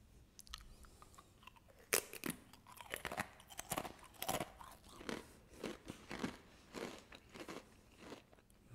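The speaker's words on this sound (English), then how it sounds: "Nice and crunchy." Close, quiet crunching as Lay's Stax sour cream and onion chips are bitten and chewed, a run of sharp crisp crackles in an irregular chewing rhythm, no speech.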